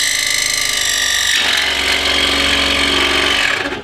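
Jet JWSS-22B scroll saw cutting quarter-inch maple, a loud rapid reciprocating buzz that steps up in pitch and intensity as the blade bites into the wood, then fades out at the end.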